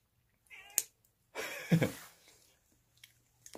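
Cats on an island seaside spot mewl while fish is grilled in front of them, giving a few short, faint cries and scuffles separated by quiet gaps.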